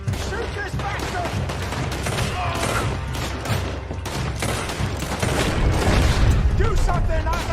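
Continuous gunfire from a Red Dead Redemption 2 shootout, dense overlapping shots and booming reports forming a steady, loud barrage that swells slightly near the end, with voices mixed in.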